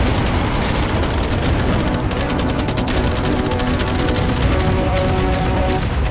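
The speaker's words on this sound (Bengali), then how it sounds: "অনেক ফায়ারওয়ার্কস, অ্যারো এবং ক্যাটারপুলস, এই সব একসাথে তোমার ইয়টের দিকে এখন ছোড়া হবে" A relentless barrage of gunfire, fireworks, arrows and catapult shots pounds a yacht in a video game, a dense, continuous roar of rapid crackling blasts with no break or voices.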